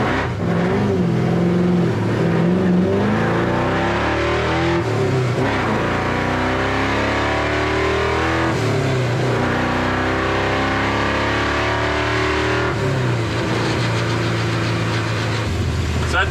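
An LS-swapped International Harvester Travelall wagon's engine revs hard and loud on a dyno, its pitch climbing in repeated pulls that drop back between them.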